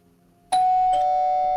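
A doorbell chimes indoors: silence, then a sudden electronic ring with a sustained bright tone and a second strike partway through, loud and alone.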